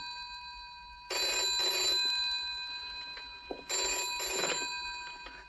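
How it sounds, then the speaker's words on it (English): An old-fashioned telephone bell rings in two loud, close bursts of about a second each, separated by a short pause, with no talk over it. "I was sitting at that desk when the telephone rang."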